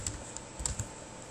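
Rapid keystrokes on a computer keyboard as a short command is typed into a configuration prompt, a handful of crisp, close clicks in quick succession over a quiet background.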